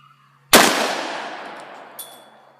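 A single loud rifle shot, from a .22 semi-automatic or a .457 magnum fired at a can outdoors, cracks sharply and rings out in a long decaying tail, followed by a faint metallic click.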